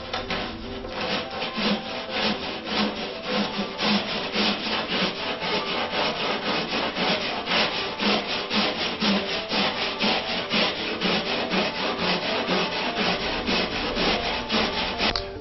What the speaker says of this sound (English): This is a flexible sanding spline.